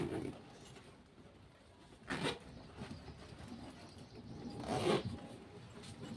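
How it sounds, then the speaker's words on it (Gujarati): A zipper is pulled open in a quiet room, two short rasping bursts a few seconds apart, faint and close, with a low voice murmuring briefly. "આ ચેન રહી આમાં જોઉં."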